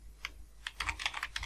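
Keys on a computer keyboard clack in quick irregular bursts as VBA code is typed into Excel, close and fairly soft, with no voices.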